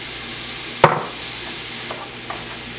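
Peppers and carrots sautéing in butter make a steady, close sizzle with one sharp knock near the start and a few faint scrapes of stirring. No one speaks.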